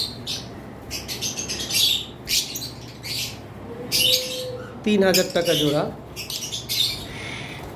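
A pair of cockatiels chirps and squawks in bursts of bright, sharp calls, with someone talking over them throughout.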